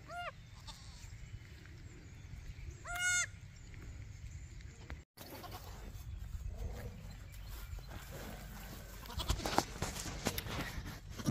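Newborn baby goats bleat in short, wavering cries, a couple of loud close calls early on, followed by rustling, shuffling movement and faint background noise on a farm.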